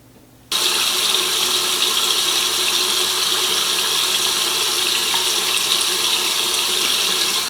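A towel is rinsed under a running tap: after a short quiet moment, water gushes steadily and loudly into a sink, a constant hiss-like splash with no talking.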